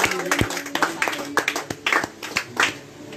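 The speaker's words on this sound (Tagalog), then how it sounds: "Palakpak sa ating Panginoon." A small group at a prayer meeting claps, with sharp, irregular hand claps over a background of voices and musical tones, close and uneven in rhythm.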